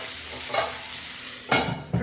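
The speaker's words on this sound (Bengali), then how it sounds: "ঢাকা দিয়ে দিয়ে ভেজে নিচ্ছি।" Cauliflower frying in oil in a covered pan makes a soft, steady sizzle, broken by three louder scrapes or lid clatters, the last two close together, with no talking.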